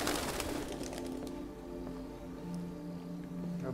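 Pigeons cooing in the Detroit: Become Human video game, soft repeated low coos over a constant ambient background, with faint rustling and no talk over it.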